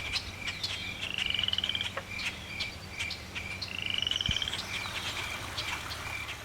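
Frogs croak at a forest pond teeming with frogs and eggs, two rattling trains of rapid calls standing out over a steady chorus of distant frogs and insects, with no talk.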